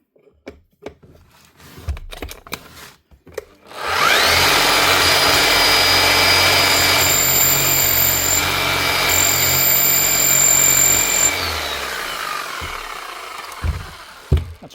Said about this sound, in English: Should be hammering fine now.